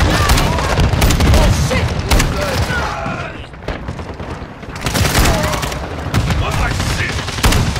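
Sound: gunfire in video game Modern Warfare 2

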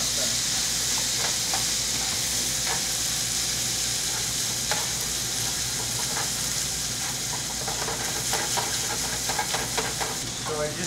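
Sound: tossing fettuccine pasta in a hot pan

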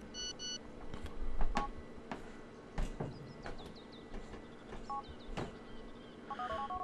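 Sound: phone number being dialed in video game Grand Theft Auto IV

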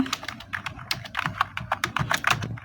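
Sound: typing on a computer keyboard in Adobe Illustrator

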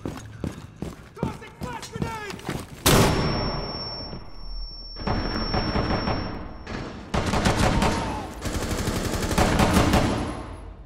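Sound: gunfire in Rainbow Six Siege video game

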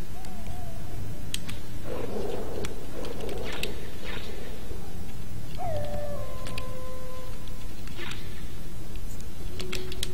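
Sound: dogs howling in video game Metal Gear Solid

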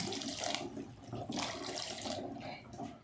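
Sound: hot water poured into cooking pot

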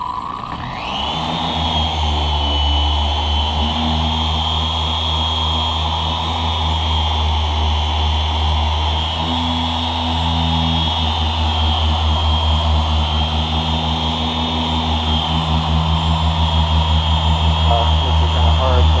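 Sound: polisher running at high speed on a windshield

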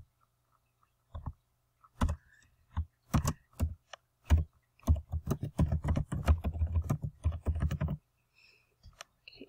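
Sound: typing login details on a computer keyboard

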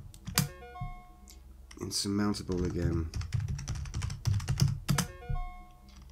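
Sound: computer keyboard typing in the typing game Digidream 1989

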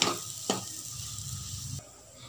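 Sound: chana dal being roasted and stirred in a pan

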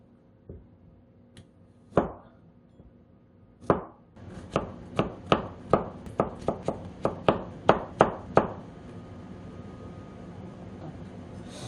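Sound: chopping food with a knife on a cutting board

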